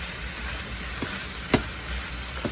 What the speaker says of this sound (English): So I'm gonna let these cook down. Let's stir it up.